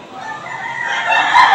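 Fighting cocks crow at a busy cockfighting arena, a single loud, close crow rising in pitch over a brief second and a half amid crowded background ambience.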